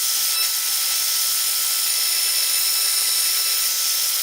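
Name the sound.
drilling wood with a 1.5 inch forstner bit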